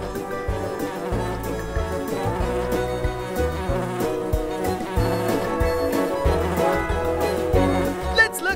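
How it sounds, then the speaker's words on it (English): A bee in the Nature Cat pollinator video game buzzes steadily as it flies from flower to flower, beneath continuous, rhythmic game music with a bright chime near the end. "Use the arrows to fly the bee from flower to flower."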